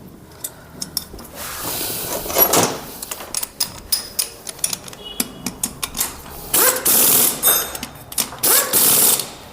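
Side bolts being tightened on a Hero Super Splendor motorcycle engine during an engine rebuild, giving loud, close, rapid ratcheting clicks and metallic rattles that come in repeated bursts.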